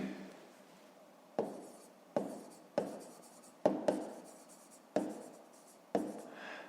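A pen or chalk writes digits by hand in a series of short, sharp scratching strokes with brief gaps between, close and fairly quiet.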